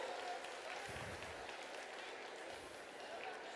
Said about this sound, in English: Give Travis a nice round of applause.